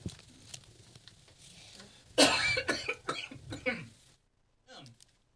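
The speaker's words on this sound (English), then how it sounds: "Coughing." A sudden fit of harsh coughing, loud and close, then a brief silence and a short throaty sound.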